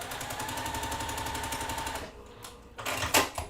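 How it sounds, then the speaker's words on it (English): A sewing machine stitches quilt pieces together in a rapid, steady mechanical chatter for about two seconds, then stops, leaving a few brief clacks and handling noises close by. "we're going to sew them together"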